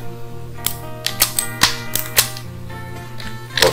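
A computer keyboard sounds a rapid, uneven series of sharp clicks and taps up close as shortcut keys are pressed for copy and paste, with no talking.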